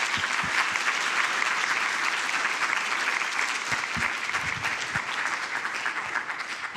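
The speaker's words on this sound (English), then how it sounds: "we need to give him another applause because this has been wonderful" A lecture-series audience applauds the lecturer in a sustained, even round of many hands clapping at moderate distance, filling the room steadily before tapering slightly toward the end.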